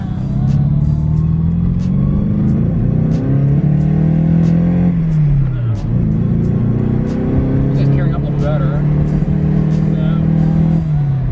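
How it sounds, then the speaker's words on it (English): A 1986 Mercedes 190E Cosworth engine with a newly replaced ignition system holds high RPM under load, a loud continuous drone that wavers and sputters, heard from inside the car with someone talking over it. "It's sputtering at still at that high RPM."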